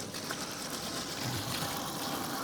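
Water streams steadily from a Mr Heater portable hot shower system, a continuous close hiss and gush without pause and no voices, fairly quiet overall.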